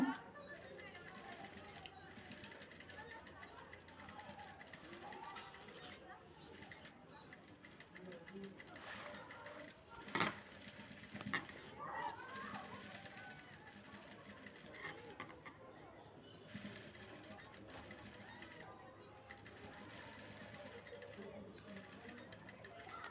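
Sewing machine stitching a double seam on a blouse made from an old saree, its steady mechanical whir running throughout at moderate level, with a sharper clack near the middle and someone talking over it.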